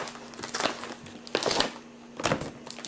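Scissors cutting open a 2007 MRE Chicken with Cavatelli meal pouch, heard as three separate bursts of crinkly plastic snipping and rustling, close up, with no talk.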